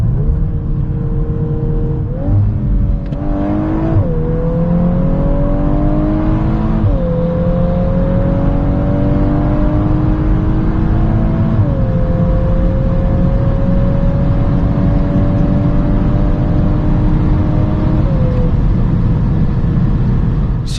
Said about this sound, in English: So let's now see how fast the Golf R goes